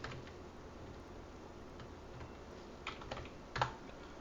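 Quiet clicks of someone typing an SSH command on a computer keyboard, soft scattered keystrokes with a couple of slightly louder taps near the end.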